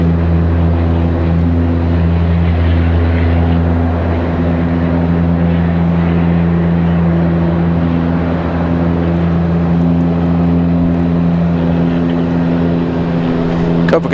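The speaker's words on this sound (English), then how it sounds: "There you go, Copa Airlines touching down." A Copa Airlines jet touches down at Raleigh-Durham, a steady, loud droning engine hum with a strong low tonal rumble running unbroken throughout, with occasional talk mixed in.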